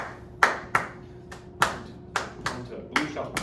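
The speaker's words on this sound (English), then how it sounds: "I'm gonna clap it and demonstrate it first" A single person claps a shuffle rhythm by hand, sharp close claps in a swung long-short pattern, about seven strikes over a few seconds, with room tone between them.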